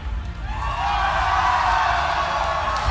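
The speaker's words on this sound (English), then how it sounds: "We know we can cheer louder" A crowd at a game night event cheers together in one sustained, fairly loud roar lasting a few seconds, with no single voice standing out.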